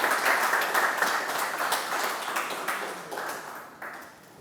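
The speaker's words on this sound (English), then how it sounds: "Can we once again have a huge round of applause for all our dignified" An audience at an engineering education program claps in a dense, steady round of applause for guests on the dais, fading slightly toward the end.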